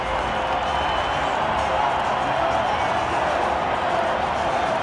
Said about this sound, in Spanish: Todos en el estadio, todos los americanistas aplauden